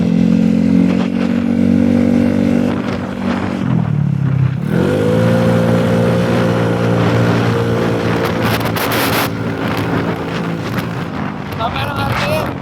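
A Yamaha Mio Soul i 115 scooter bored up to 170cc revs hard, its engine holding a high steady whine, dropping briefly, then climbing back and sustaining with sharp blips near the end, loud and close amid wind noise.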